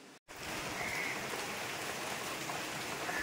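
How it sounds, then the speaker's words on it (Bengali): Rain falls steadily outside a balcony, a soft, even hiss of drops spread across the scene after a brief dropout at the start, with no voices present. "দেখো বৃষ্টি পড়ছে, শুনতে পাচ্ছ নিশ্চয়ই"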